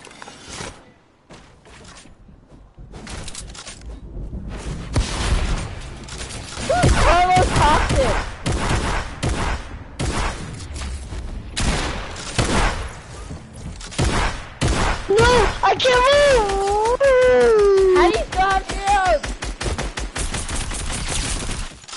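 Rapid video-game gunfire bursts, loud and repeated across most of the clip, mixed with a person talking over the shots.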